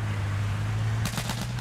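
Rapid burst of gunfire in the video game H1Z1, several quick close shots in a row over a steady low engine-like hum.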